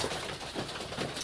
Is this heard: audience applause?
no